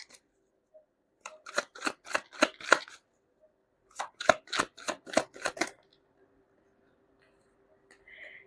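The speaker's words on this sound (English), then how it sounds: "Let's pull up 3 cards from this deck." Tarot cards are shuffled and drawn from a deck in two quick bursts of crisp, rapid riffling flicks, close and clear in an otherwise quiet room, followed by a brief soft rustle.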